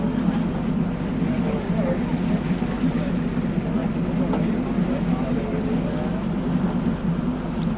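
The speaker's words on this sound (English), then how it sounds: "I'm at the back of the boat, and it's a little loud back here" A loud, steady boat engine drone on a lagoon at Magic Kingdom, heard from the back of the boat, with wind buffeting constantly over it and no pauses.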